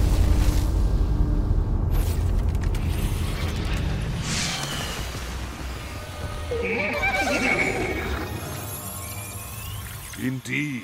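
A horse neighs in the Destiny 2 video game, a brief whinny rising out of a busy mix of mechanical creaks, rumbling and game effects, with talking running underneath throughout.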